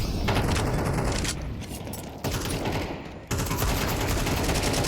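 Rifle gunfire in a competitive esports video game match, with dense rapid bursts and overlapping shots that nearly fill the clip, pausing briefly twice, loud and continuous.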